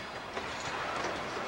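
A Grand Trunk Western GP-9 diesel locomotive running on the main line toward Vassar, a steady rumble and rolling rail noise at moderate distance, no voices.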